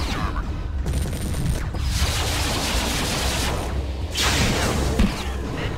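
Heavy gunfire striking the player's mech in Mechwarrior 3, loud rattling bursts and impact thuds hammering in waves, with brief lulls between volleys and a sharp hit near the end.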